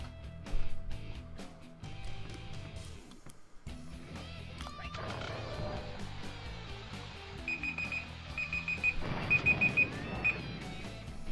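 An alarm rings in the physics puzzle game Bad Rats, sharp repeated beeping pulses that grow prominent in the later part, over game music and scattered clatter.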